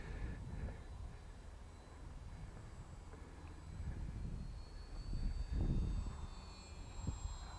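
An FX707S Albatross RC plane flies at half throttle, a faint, steady distant engine whine with a slowly shifting pitch over outdoor rumble that swells and fades as it passes.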